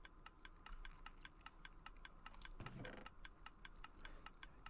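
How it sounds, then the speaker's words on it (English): Steady, rapid ticking from a Minecraft item sorter with added water, evenly spaced clicks repeating throughout at moderate level, with a brief louder rushing burst midway. "You can hear it ticking"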